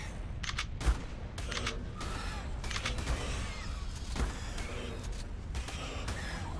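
Shotgun blasts from ARK on The Island, a steady series of heavy booming shots roughly every half second to second, loud over a noisy game backdrop.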